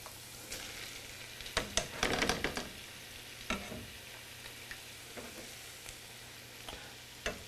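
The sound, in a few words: food sizzling as it goes into a pot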